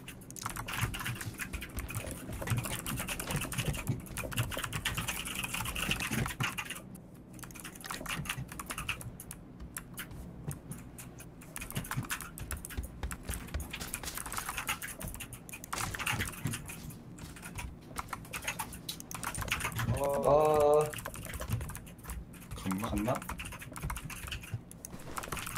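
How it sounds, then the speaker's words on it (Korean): Rapid computer keyboard typing during PUBG play clatters on continuously at close range, with bursts of faster keystrokes and no voices. "이게 근데 키보드 소리도 그래, 너무 많이 나는데"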